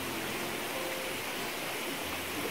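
Steady broadband wash of flowing river water, continuous and moderately loud, with no voices over it.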